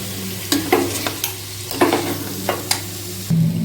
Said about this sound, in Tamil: நம்ம இப்போ வதக்கிறதுக்காக இப்படி வெறும் மட்டனை எடுத்து போட்டு வதக்கிக்கலாம்.